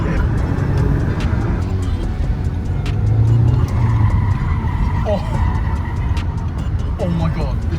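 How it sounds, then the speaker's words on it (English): An Audi TT's tires squeal in short bursts over a loud engine rumble and road noise from inside the car, with people talking throughout. "Oh my god, the tracking is so bad, it's just squealing."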